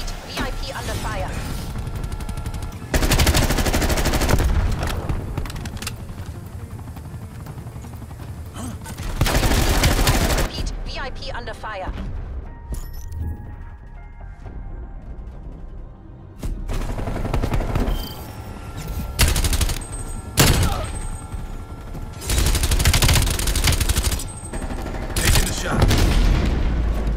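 Gunfire in the video game Call of Duty: Black Ops Cold War: repeated bursts of rapid shooting and booms come in clusters, with quieter stretches between the volleys.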